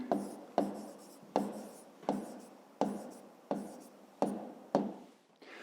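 Pen writing on paper during a fifth-grade geometry exercise on constructing an angle, eight quick scratchy strokes in a steady rhythm, close and fairly quiet.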